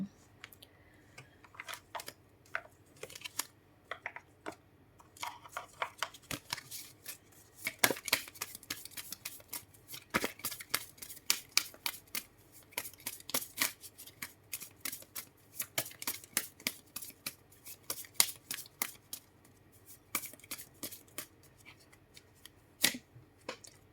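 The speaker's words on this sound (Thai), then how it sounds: "เดี๋ยวมาดูไพ่ออราเคิลกัน" Oracle cards being shuffled by hand: continuous close, crisp riffling and flicking clicks in quick bursts, fairly quiet and steady throughout.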